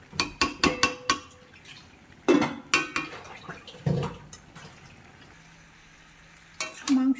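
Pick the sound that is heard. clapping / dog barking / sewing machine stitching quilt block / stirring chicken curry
stirring chicken curry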